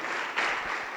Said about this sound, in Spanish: Fuerte las palmas al bendito Rey.